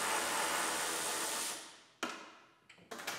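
A steady broadband whoosh cuts off, then a sharp metallic clink and two quicker rattling knocks follow as a bolt drops into an Acura RDX engine bay and bounces.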